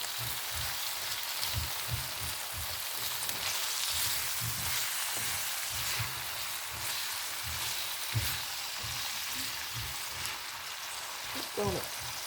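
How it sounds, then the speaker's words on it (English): Broccoli and onions fry in oil in a pan for beef and broccoli, giving a steady quiet sizzle with soft scraping of stirring throughout, faint and close. "So we're gonna put that in there and fry it up a little bit."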